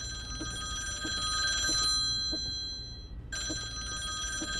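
A phone rings with a sustained electronic trill, pauses for a moment, then rings again. It is moderately loud, with faint thumps and room noise underneath and nobody speaking.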